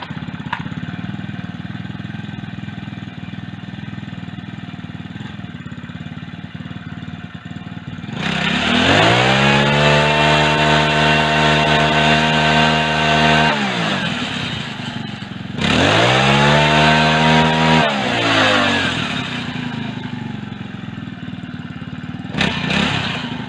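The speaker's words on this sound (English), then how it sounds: "We're just about ready to start the engine up, and we'll pop the wheel in the air and give it a bit of a rev" A Mk4 motorcycle engine runs at a rough idle, then revs loudly twice with the rear wheel raised, each rev holding steady for several seconds before dropping back toward idle.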